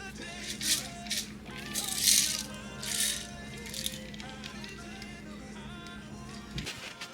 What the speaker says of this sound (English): I'm just gonna fill up the salt side and the pepper side.